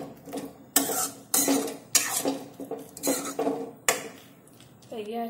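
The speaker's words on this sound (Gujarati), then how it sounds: "બોલ્સને ગ્રેવી સાથે મિક્સ કરી અને આપણે એક મિનિટ માટે તેને" Metal spoon scraping and clinking against a pan as leftover-rice balls are stirred into gravy for a Manchurian-style snack, a few distinct knocks and scrapes close by under a quiet voice.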